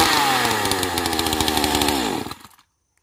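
A chainsaw, run again after long disuse, idles and revs loudly before cutting a dead golden oak tree, then its engine winds down and cuts off abruptly near the end.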